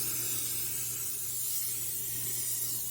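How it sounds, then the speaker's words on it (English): A can of cooking spray hisses steadily onto a 9x13 baking dish in a kitchen, one continuous close spray lasting about three seconds with no talking. "I'm going to spray my 9x13 baking dish"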